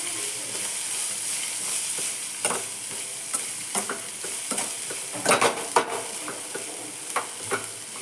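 Dry chili powder, garam masala, turmeric and salt being mixed by hand into soaked beans at a market stall, a continuous gritty rustling with scattered wet squelches and sharper pats, close and alone.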